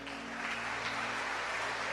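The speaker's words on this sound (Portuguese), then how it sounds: "Vamos aplaudir a Deus" A church congregation applauding during a worship service, a dense, continuous wash of clapping hands heard at a moderate distance over a low steady hum.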